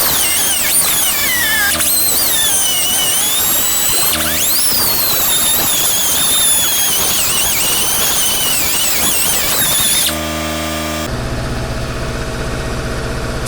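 A loud, continuous high-pitched whine of a power tool cutting off welds on a truck exhaust down pipe, steady and harsh, then shifting to a rougher tone near the end.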